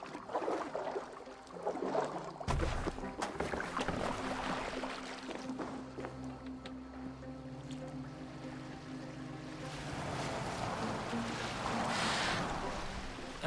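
A boat moving over water in the video game Assassin's Creed Valhalla, with a steady low rumble of water and hull beneath game music and voices, swelling into a brighter wash toward the end.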